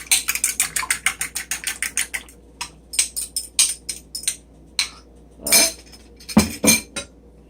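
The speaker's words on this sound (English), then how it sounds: "We're going to scramble up our 2 eggs." Two eggs being scrambled with a utensil in a bowl, giving a steady run of quick, bright clinking strokes that later turn into scattered taps and scrapes, close and fairly loud with no talk.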